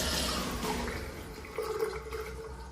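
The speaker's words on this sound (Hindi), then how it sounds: "बेसिन में से पानी एक झटके से घरघराता हुआ पाइप से बह गया" Water gurgles and drains from a bathroom basin down the pipe, a moderately loud liquid rush that fades, then a brief renewed gurgle near the end, with no voices.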